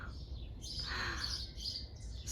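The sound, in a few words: small birds chirping in garden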